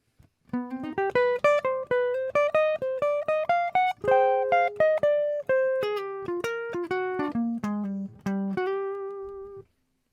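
A full jazz guitar solo line on a song runs as a steady flow of clean, crisply picked single notes that climb and then wind downward, closing on a sustained note. It is solo and close, with no talking.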